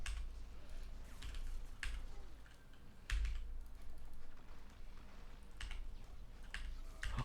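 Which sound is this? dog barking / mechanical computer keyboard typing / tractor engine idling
mechanical computer keyboard typing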